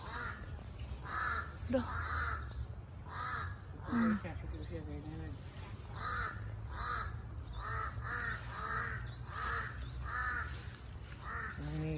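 A crow on a rural countryside farm in the Philippines caws in a long series of harsh, evenly spaced calls, close and clear over a hum of insects, with brief speech in between.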